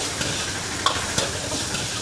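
Chilli chicken frying with spices in a street-food wok in Amritsar, a steady loud sizzle filling the scene, with a few sharp metal scrapes and clinks as it is stirred, close up and continuous.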